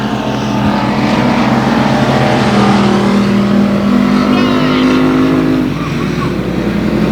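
A race car engine roaring at 281 Speedway on the final lap of a race, loud and close with a sustained droning tone that rises slightly in pitch, then fades as the car passes by.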